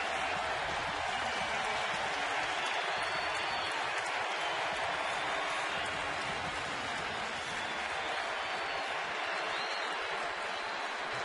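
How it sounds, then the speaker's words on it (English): A stadium crowd at the Orioles' home opener applauds Brooks Robinson, a steady, distant, hissing wash of clapping that holds evenly throughout. "Brooks Robinson was making his way through the crowd here and getting a great hand"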